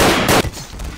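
Gunfire in the online game Garry's Mod, DarkRP mode: a loud, close burst of rapid shots fills the first part of the second, then cuts off into a quieter background.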